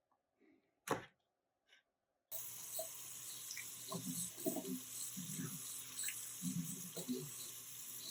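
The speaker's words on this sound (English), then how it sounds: "All I had to do was give it a quick rinse." Water runs from a kitchen tap in a steady stream to rinse a cloth, after a few quiet handling clicks and a brief knock. Soft splashes and wet dabbing sounds run through the flow.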